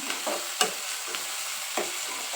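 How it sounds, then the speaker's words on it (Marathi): Onion and tomato frying in a pan over high flame, a steady close sizzle with a few sharp scraping stirs of the spoon breaking through at irregular moments, no voices. "कांदा छान लालसर भाजून झाल्यानंतर त्याच्यामध्ये टाकायचा एक टोमॅटो तोही छानसा लाल लालसर होईपर्यंत भाजून घ्यायचा"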